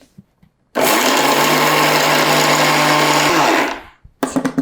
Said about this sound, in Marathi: हे मिक्सरला पुन्हा बारीक करून घ्या